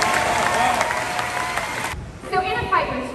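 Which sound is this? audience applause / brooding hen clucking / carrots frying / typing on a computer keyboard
audience applause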